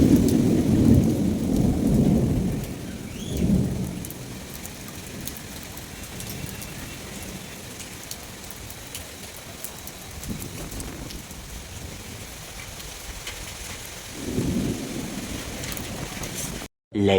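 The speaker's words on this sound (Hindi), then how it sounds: "अभी तो मुझे बारिश खुलने का वेट करना पड़ेगा। अभी मैं आनंद लेता हूँ यहीं पे बैठ के, क्या ही मस्त हो रही है बारिश भाई।" Heavy rain pours steadily while deep rolls of thunder swell in loud bursts at the start, again a few seconds later, and near the end, with the downpour filling the gaps between them.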